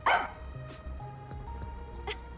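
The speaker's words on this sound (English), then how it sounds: "Da ist der Hund." A dog barks once in the video game Master Detective Archives: Rain Code, a short near bark over a low game music bed that keeps playing alone afterward.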